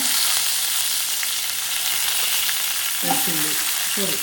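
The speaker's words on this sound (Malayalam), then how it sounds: "കടുക് പൊട്ടി തുടങ്ങുമ്പോഴത്തേക്ക് നമുക്ക് ഉലുവ ഇട്ട് കൊടുക്കാം" Mustard seeds and fenugreek sizzle in hot oil in a constant loud hiss, with a faint voice briefly heard near the end.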